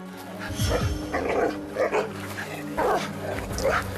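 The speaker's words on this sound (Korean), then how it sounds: "먼저 으르렁거리는 것도 복순이에요" A Jindo dog and a Malamute, two large dogs sharing a space, growl and bark in repeated tense bursts close by, with agitated yips and whimpers between them.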